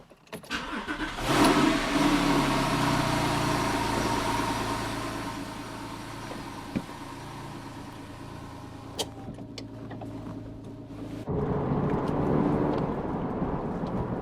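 A 2009 Porsche 911 Carrera S (997.2) starts up close by, with a rising burst, then settles into a steady idle hum with a few small clicks, before the engine note lifts slightly toward the end.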